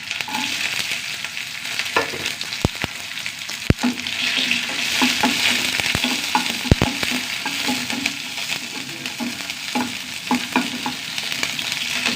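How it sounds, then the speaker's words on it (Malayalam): Sliced shallots fry in oil over a tempering of mustard seeds, dried chillies and curry leaves, giving a continuous close sizzle broken by scattered sharp clicks and taps of a stirring utensil against the pan. "ഉള്ളിന് മൂത്ത് വരട്ടെ."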